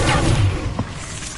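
A Bombarda spell explodes in the video game Hogwarts Legacy, a dull booming thud layered over dense game noise, with a short sharper burst partway through.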